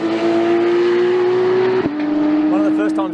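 A 2019 Porsche 911 GT3 RS drives on a racing track, its engine holding a steady high note that dips briefly and recovers, heard from inside the car with some talk over it.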